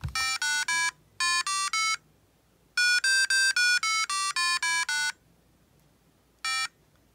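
A vintage 1986 Fisher Price Creative Music Maker 3007 toy plays back recorded electronic tones as clean, bright beeps in short groups with pauses, ending on a single tone.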